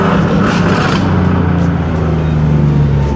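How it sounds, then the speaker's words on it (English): A turbocharged Nissan VQ-engined car holds a steady loud engine drone with a low exhaust hum throughout, rising slightly as it pulls, with no talking over it. "You'll get a downshift."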